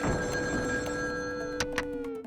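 A telephone rings with a steady electronic bell tone, followed by a couple of sharp clicks near the end.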